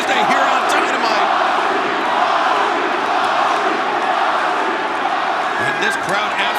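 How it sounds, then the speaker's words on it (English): A wrestling arena crowd roars loudly and steadily, cheering for Jon Moxley after Hangman Page strikes the barricade during Dynamite's Title Tuesday, filling the arena with a continuous wall of noise. "this crowd absolutely rabid in their support of Jon Moxley"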